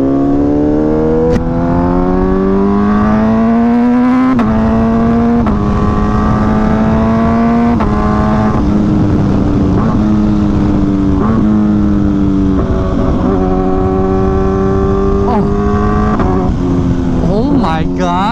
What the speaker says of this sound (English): Oh my god, this bike sounds so nice.